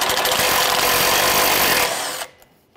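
A power tool spins out a 10mm bolt beneath the bumper of a 2009-2015 Honda Pilot, running loud and steady for about two seconds before it cuts off abruptly and winds down to near silence.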